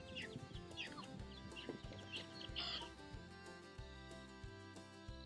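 Farmyard chickens cluck softly and intermittently on a rural property, faint scattered calls over a low, steady background hum with no talking.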